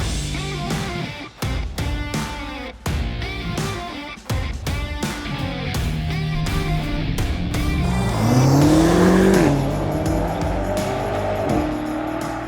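A BMW X5 M Competition SUV driving hard, its engine revving and rising through gears, with a tire squeal and a surging roar near the end, loud and close.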